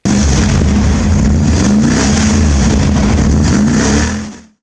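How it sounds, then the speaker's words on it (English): A Dodge Ram 1500 pickup's V8 engine, fitted with a sport-tuned MagnaFlow exhaust and 3-inch chrome tip, rumbles loudly and revs in one continuous close growl before cutting off abruptly. "Dodge made sure the truck sounded good by adding a sport-tuned MagnaFlow exhaust with a 3-inch chrome tip."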